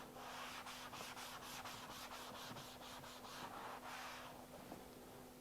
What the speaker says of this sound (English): I'm just going to wipe this down